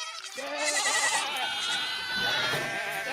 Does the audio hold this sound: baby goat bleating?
yes